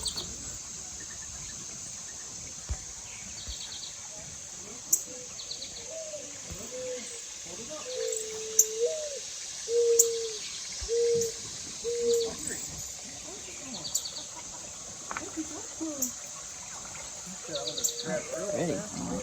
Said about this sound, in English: Cardinal is singing.